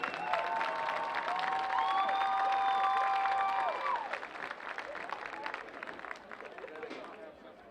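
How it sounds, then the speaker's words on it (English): Crowd applause and cheering for the senior class at a college football game, a steady wash of clapping from the stands that swells for a few seconds and then tapers off, with a tonal sound overlapping its start. "let's have a round of applause for the senior class of"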